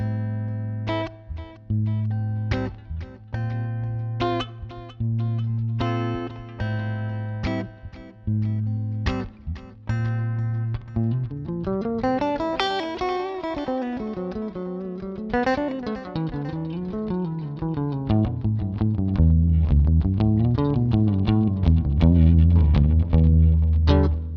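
Guitar with echoing delay repeats and a roomy reverb trail, arpeggiated notes blending into a swelling, layered wash, then a heavier low chord pattern.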